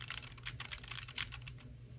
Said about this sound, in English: this is my keyboard from Keychron.